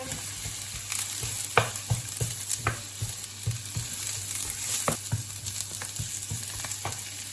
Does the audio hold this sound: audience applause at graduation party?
no